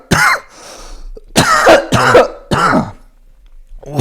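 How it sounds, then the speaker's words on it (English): Several harsh coughs close to the mic, a hacking first burst, then three more in quick succession after a brief pause, loud and raspy. "Sorry again, coughing in the mic."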